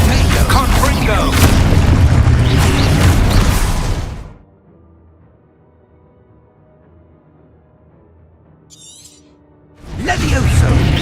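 Confringo blasts in Hogwarts Legacy: a loud, sustained booming explosion with crackling debris, then near-silence, then another heavy burst begins; a voice shouts spell names over the noise.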